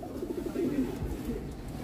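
Pigeons coo close by in a soft, repeated throaty rhythm, a few low warbling calls over about two seconds with no talking.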